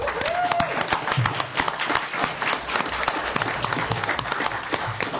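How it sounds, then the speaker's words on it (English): Audience applause at a town council meeting in Taos, a lively round of many hands clapping in a room, with some cheering and voices mixed in. "How about a big round of applause?"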